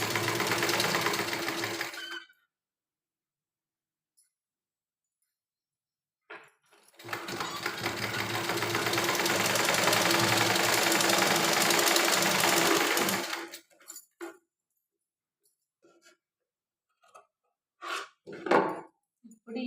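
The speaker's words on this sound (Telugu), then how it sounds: "ఇప్పుడు ఈ లాస్ట్ కుట్టు వేయాలి." A sewing machine stitches a lined blouse in two runs, a short burst then a longer steady whirring stretch, close and loud, followed by scattered handling knocks.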